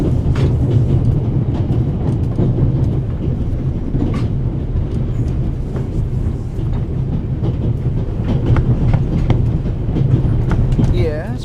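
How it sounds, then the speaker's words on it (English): Steady rumble and rhythmic clatter of a train in motion from the video game The Raven, loud and continuous throughout, with faint voices briefly talking over it. "The noise on this train is driving me crazy."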